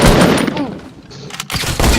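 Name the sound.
gunfire in Fortnite video game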